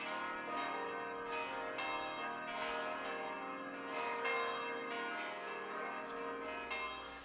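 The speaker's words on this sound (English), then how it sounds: "a prearranged signal was given by the pealing of church bells" Church bells pealing continuously, several bells striking in overlapping succession with rich ringing overtones, steady and sustained, heard alone without voices at moderate distance.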